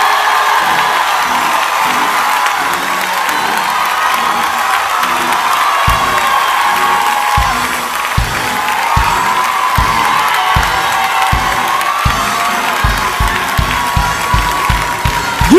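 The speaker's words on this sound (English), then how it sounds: "I need somebody to clap and scream" A church congregation claps and screams during a healing service, a dense continuous crowd roar with whoops and rhythmic clapping that grows more regular and pronounced in the second half.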